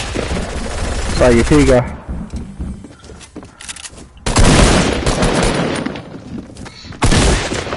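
Bursts of rapid automatic gunfire in a PS4 shooter, loud and close, with heavy sustained volleys at the start and end and a quieter stretch between, while someone talks briefly over the shooting.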